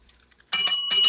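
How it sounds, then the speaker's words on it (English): A bell sound effect fires off on a live stream, a bright ringing burst that starts abruptly after a near-silent moment and rings loud and close for about half a second before striking again. "Give me the bell on that, bud."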